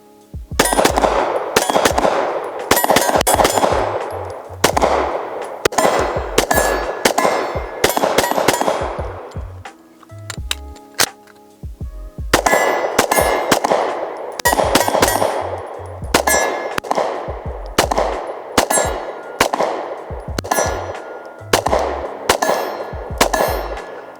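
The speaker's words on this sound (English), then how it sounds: "Let's dump these 2 more mags, then we'll get some more shooting done" Rapid strings of gunshots as magazines are emptied at steel targets about 25 yards away, loud sharp cracks each followed by a ringing metallic clang, in bursts with a short pause midway.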